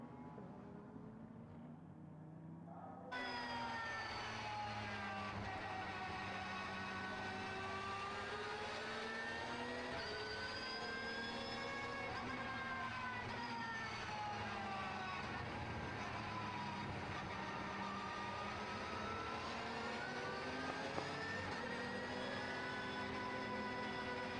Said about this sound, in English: Opportunity to just listen in to that flat 6 engine